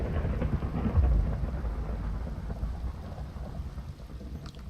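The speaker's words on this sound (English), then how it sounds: "I want to shut this storm down" Heavy rain and rolling thunder from a storm in the Minecraft SkyFactory 3 modpack, a steady close downpour with a deeper rumble swelling early, then fading under continuous rainfall.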